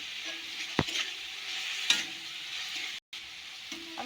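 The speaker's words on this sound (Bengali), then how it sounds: "আমি ভালো করে এবার নাড়াচাড়া করে দেবো আর একটু ভাজা ভাজা করে নেব মশলাটা" Spice paste (masala) with salt is stirred and fried in a pan for shrimp malai curry, giving a steady close sizzle with occasional scraping strokes of the spoon against the pan.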